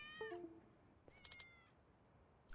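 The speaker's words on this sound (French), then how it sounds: "Il est par là le chat." A cat meowing in the video game Yakuza: Like a Dragon, two short, faint meows in a quiet scene, followed by a sharp noise at the end.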